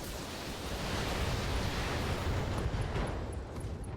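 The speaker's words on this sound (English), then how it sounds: "AC-20 ammo explosion." An AC-20 autocannon ammunition explosion in the BattleTech video game sounds as a dense, sustained roar of broadband noise that rumbles steadily for several seconds, loud and without speech.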